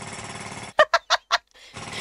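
A golden jackhammer in a video game fires four sharp, evenly spaced bursts of loud mechanical hammering, framed by a steady background hum before and after the bursts.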